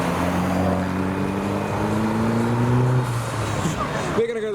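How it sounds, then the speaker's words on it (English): Motorbikes at a car show roar at high revs during burnouts, loud and sustained with a droning engine note that cuts off near the end, under talk from people nearby. "these bikes have just decided to provide some smoky burnouts for the crowd"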